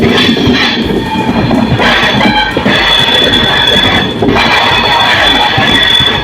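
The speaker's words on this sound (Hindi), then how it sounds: "देखिए डिपार्चर जंक्शन से निकलते हमारी ट्रेन कर्व लेती हुई भाई, और ट्रैक साउंड का एंजॉय करो यार।" The Sikkim Mahananda Express rolls out of Siliguri Junction on a curve, its wheels clattering and squealing loudly on the rails, with rhythmic track thumps and metallic screeches running continuously close up.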